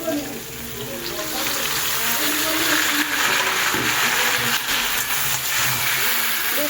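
Chopped green chilies, tomato and ridge gourd hit hot oil in a frying pan with a steady, broad sizzle close by, while a voice talks faintly underneath.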